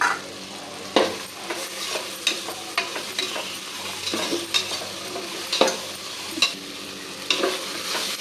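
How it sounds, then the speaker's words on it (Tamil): Carrot, potato, beans and garlic are sautéed with onion and tomato in a pan for vegetable biryani: repeated spatula strokes scrape and clack at close range over a soft, steady frying sizzle. "இதையும் வந்துட்டு இதில் போட்டு நல்லா வதக்கிக்கலாம்."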